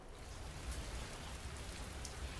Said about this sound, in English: I see the rain has once again started in the background.